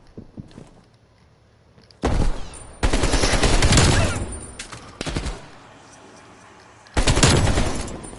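AK rifle fire in Call of Duty Warzone comes in loud, dense bursts of rapid shots, separated by quieter gaps with faint clicks and movement.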